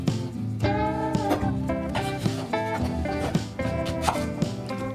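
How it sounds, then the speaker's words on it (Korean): A knife chops an apple repeatedly on a cutting board in quick, uneven strokes, heard beneath steady background music. "사과는 씨를 빼고 껍질채로 갈기 좋게 적당하게 자릅니다"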